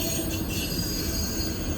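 A Norfolk Southern freight train rolls steadily past close by, its wheels rumbling and squealing faintly on the rails, with no one speaking.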